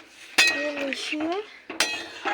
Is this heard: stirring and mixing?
yes